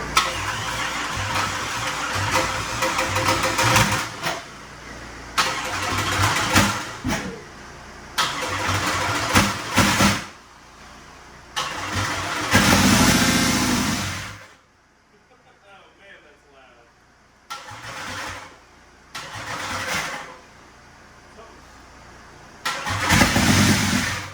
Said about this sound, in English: I'm going to hit the key and start it